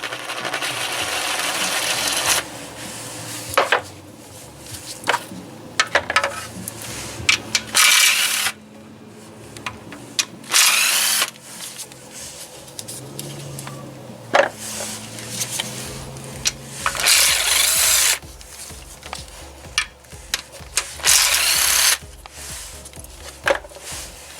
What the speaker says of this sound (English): All the bolts will need to be removed with a 10mm socket now, the ones that surround the oil pan